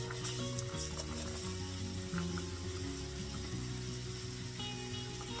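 Onions sizzling in a hot pan for a Nigerian meat pie filling, a loud dense continuous sizzle with a constant background hum, heard close with no talking.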